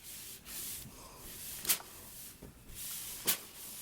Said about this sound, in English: let's go ahead and give it a good press